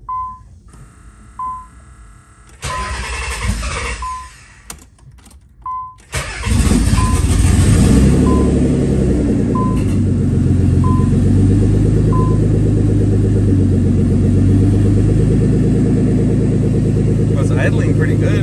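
A Nissan 300ZX twin turbo that has sat unused for a long time cranks with a few short beeps, then fires and settles into a loud, steady rumbling idle.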